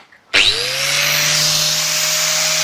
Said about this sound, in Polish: Więc szlifierka w dłoń i ogień.